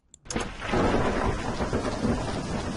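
A thunderstorm sound effect: a sharp thunder crack sets off at once into steady, loud rain with a rumbling low end, the downpour sustained to the end with no voices.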